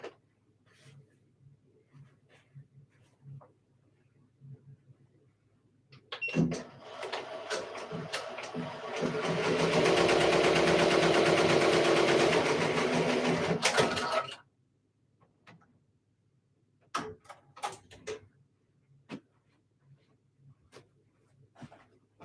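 Embroidery machine stitching an Etsy order, a fast, dense mechanical whir that starts abruptly, runs steadily for several seconds at high level, then stops, with quiet clicks and handling sounds before and after.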